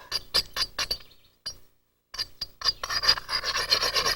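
A novaculite stone point being ground, heard as close, harsh raspy scraping strokes in bursts, with a brief pause before steadier rubbing resumes.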